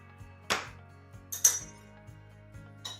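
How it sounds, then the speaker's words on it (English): Cumin and chili powder being stirred together in a bowl for a rib rub: a few light clinks and scrapes of a utensil against the bowl, spaced apart, close and fairly quiet with no talk. "And just stir them all together in your bowl so that it makes like a rub,"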